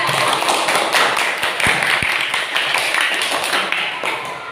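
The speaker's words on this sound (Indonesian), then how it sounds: "kasih tepuk tangan untuk kelompok 3" Group of students clapping for classmates in a classroom, a dense steady patter of claps lasting several seconds with a few louder thumps, fairly close and filling the room.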